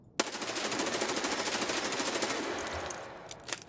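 Sustained automatic gunfire in Escape from Tarkov, a rapid unbroken burst of shots that runs for several seconds with a few sharper final cracks, loud and close with no talking.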